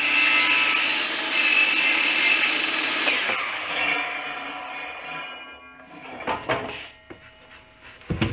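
Continuous rasping of a saw cutting wooden legs for a kitchen island, steady for several seconds, then slowing into a few scrapes and knocks as the cut finishes.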